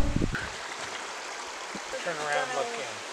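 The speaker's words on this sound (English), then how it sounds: "The creek gently flows among a jumble of rocks." Cataract Creek on Mount Tamalpais in Marin County flows among a jumble of rocks with a steady, close rushing wash, while a voice talks briefly at the start and again later.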